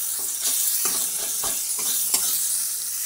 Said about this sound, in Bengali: গ্যাসের ফ্লেমটা একটু কমিয়ে রেখে অল্প তেলের মধ্যে মশলাগুলোকে আমি ভেজে নিলাম